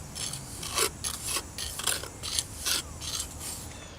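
White stucco finish coat troweled onto a patch against a building outdoors, rhythmic rasping scrapes about every half second, close and fairly quiet, with no talking.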